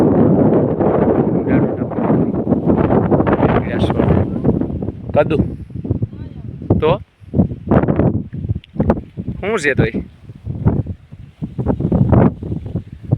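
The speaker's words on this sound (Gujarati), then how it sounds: "પવન જોરદાર છે" Strong gusts in a farm field buffet the microphone with a rough low roar, while someone speaks in short phrases through the wind.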